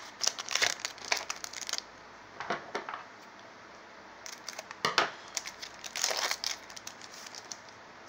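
A Pokemon card booster pack wrapper, from the Chilling Reign set, crinkles and tears open in several short crackling bursts with quiet pauses between them, close to the microphone and without talk.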